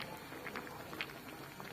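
Soft, steady bubbling of a thick tomato and red pepper sauce simmering in a large pot, low and continuous with faint pops scattered throughout.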